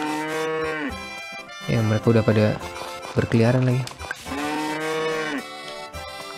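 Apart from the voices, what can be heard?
cows mooing in Harvest Moon video game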